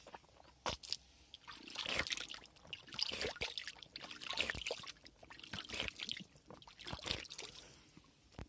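Spring water seeps out of an embankment and trickles from under stones in a village, running downhill in a close, steady babble with small splashes and crunchy bursts that rise and fall throughout.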